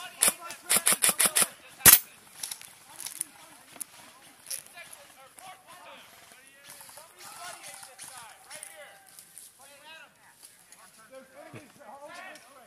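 Airsoft guns laying down covering fire in a nighttime milsim game, a fast burst of sharp close cracks and snaps at the start, then scattered distant pops under voices and movement.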